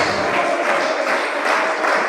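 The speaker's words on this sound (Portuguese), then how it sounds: "Quem crê nisso, bate palmas" A congregation clapping at a church service, a steady wash of many hands applauding together, fairly close and even for a couple of seconds.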